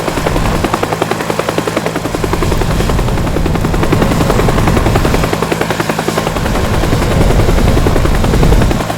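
A helicopter fitted with many thrusters in the video game Teardown, with a loud, steady rotor chop and engine drone running throughout, joined by sharp rapid gunfire-like bursts.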